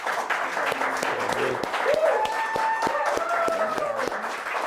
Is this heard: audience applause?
yes